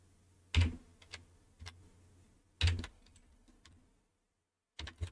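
Computer keyboard being tapped in a quiet room, with three short separated bursts of key clicks, each a sharp strike followed by a few lighter taps, close and clear, with no talking.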